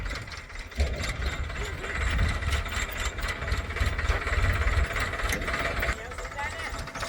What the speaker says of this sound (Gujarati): આ બાજુ ટ્રેક્ટર લોખંડ ઠલવે ને આવે